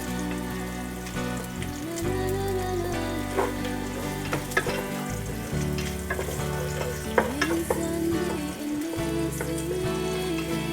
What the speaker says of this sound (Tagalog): Bango ang garlic natin. Lutuin natin konti yan.